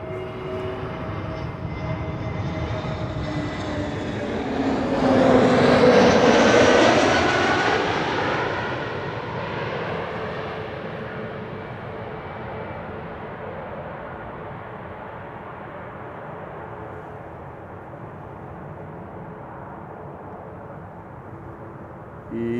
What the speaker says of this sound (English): here in the foreground we have EasyJet with an A320neo arriving from Stansted